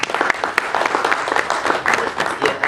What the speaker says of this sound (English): we'll give you applause